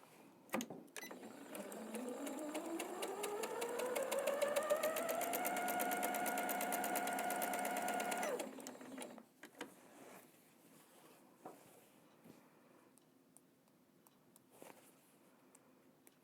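A sewing machine set to a 2.5 stitch length runs up to speed, its motor whine climbing then holding steady with a rapid rhythmic stitching clatter for several seconds before stopping, followed by quiet handling clicks.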